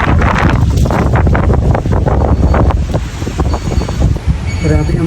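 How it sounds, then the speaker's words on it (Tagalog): Strong wind roars and buffets outside, a loud, continuous rush of gusts with heavy rumbling blasts against the microphone throughout, with no pause. "Grabe ang hangin sa labas."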